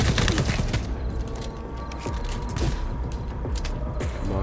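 Rapid gunfire bursts in the Cyberpunk 2077 video game, dense repeated shots and mechanical clatter filling the scene at a steady, loud level with no talk.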